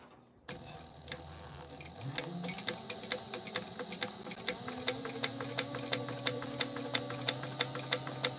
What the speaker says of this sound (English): I am going to top stitch on either side of this.